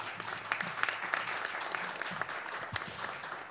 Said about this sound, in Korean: 스태프분들께 큰 박수 한번 부탁드립니다